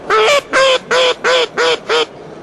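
A mallard duck call, a hunting call used to imitate the bird, blown in six loud evenly spaced quacks, close and clear, with no talk.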